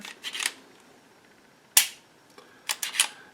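Several sharp, dry metallic pistol trigger reset clicks snap close by, isolated and spaced apart, with one louder snap in the middle.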